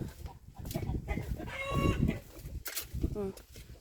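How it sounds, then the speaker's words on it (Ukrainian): A rooster crows with a drawn-out, wavering call amid background chatter and household noise, fairly close by. "це півень так кукуріче."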